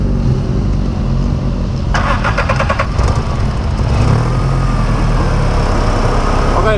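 A turbocharged VW Polo 2.0 with a custom exhaust turns over and fires up, a loud rumbling idle with a brief rattling crank, steady and close throughout.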